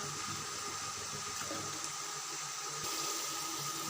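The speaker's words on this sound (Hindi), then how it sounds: "इसमें पानी डालने लगे हैं।" Water pours steadily into a cooking pot for chicken pulao, measured in by the glass after three glasses of rice, a continuous close splashing rush with no talk.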